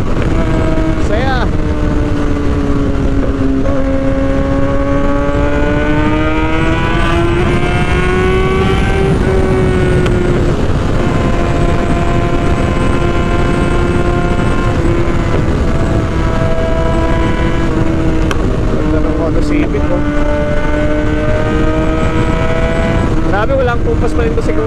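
A Kawasaki ZX-6R sports motorcycle runs fast and flat-out on an expressway, its engine holding a steady high-pitched drone with slight rises and dips in pitch, loud and continuous throughout under heavy wind noise.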